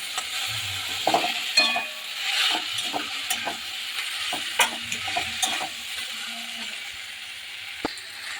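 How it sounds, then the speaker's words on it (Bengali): Mashed potato filling for aloo paratha fries and sizzles in a pan while a spatula stirs it, giving soft scrapes and occasional metallic clinks against a quiet frying hiss. "এখন আমি ভালো করে এটাকে একদম সুন্দর করে ভাজা ভাজা করে নিচ্ছি"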